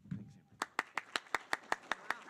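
A single person clapping in a steady rhythm, about ten crisp, evenly spaced claps, close and clear, after a brief murmur of speech at a school administrators' meeting.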